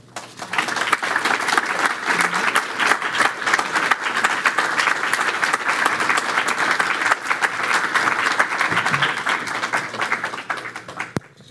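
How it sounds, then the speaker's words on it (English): Sustained audience applause fills the room for a heritage and sustainability panel, a dense steady roar of many hands clapping that holds for about eleven seconds before easing off at the end. "if we could have one more round of applause for this very eloquent panel"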